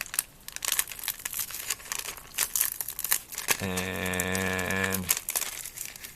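Plastic packaging on a Ninjago magazine crinkles and crackles as it is handled and pulled at, steady close crumpling noise with a brief sustained tone in the middle; a voice speaks briefly.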